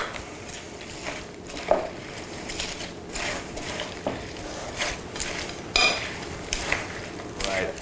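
Onion, apple and cabbage slaw gets tossed in a vinaigrette in a bowl, giving soft wet rustling and stirring with scattered clinks of utensils against the bowl, steady and moderately close.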